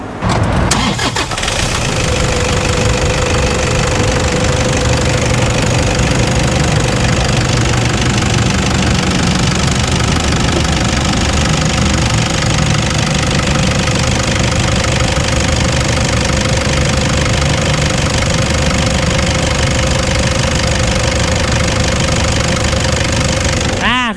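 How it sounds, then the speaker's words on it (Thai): The engine of a 2014 Toyota Vigo 2.5E manual pickup truck with about 70,000 km starts, then settles into a steady, loud idle with a constant hum and faint knocking that runs on without change. "ฟังเสียงเครื่องยนต์กันเลย"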